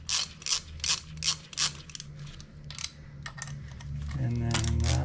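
A hand ratchet snugs up bolts on a Husqvarna 701SM motorcycle chain guard, close rapid bursts of clicking strokes in a quick rhythm, followed by a brief rising mechanical whir at the end.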